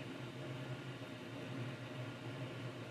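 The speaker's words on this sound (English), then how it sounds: "Excuse the noise, I've got my diesel heater on today." Steady broadband roar of a diesel heater running in a workshop, a constant close hum with low rumble and airy hiss, no breaks or speech.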